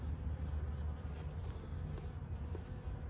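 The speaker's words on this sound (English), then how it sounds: "Yep, bees." Honeybees from an opened beehive during an early February hive check, a steady dense buzzing hum that holds evenly throughout at a moderate level, with no voices.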